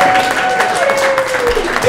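An audience claps in a steady patter of applause at a charity launch event while a voice keeps talking over it.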